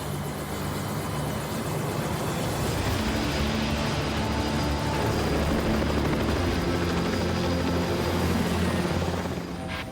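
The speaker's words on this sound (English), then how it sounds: "I'm gonna go up in a helicopter today" A helicopter's steady rotor thump and engine roar fill the whole stretch, loud and close, with no pauses, flying over gold mining claims.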